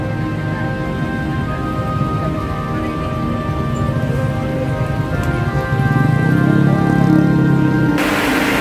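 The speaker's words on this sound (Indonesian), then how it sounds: "Saat sesi hujan di posisi kali irigasi yang berada di dekat pintu masuk gerbang perumahan Bumi Anggrek teman-teman" Rain falls on an irrigation canal near the entrance gate of a housing estate, a steady, dense hiss close by with a low droning hum under it, growing somewhat louder partway through.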